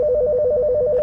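A Mitel 6920 desk phone rings for an incoming call, a loud electronic warble repeating in rapid, even pulses close up, with nothing else over it.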